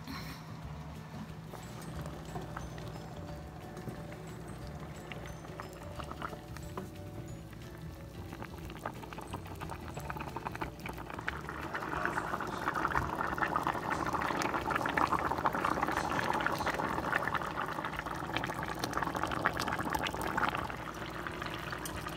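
Beans cooking in a pot on the stove, a continuous low bubbling boil that grows slightly louder and busier midway, with no voices.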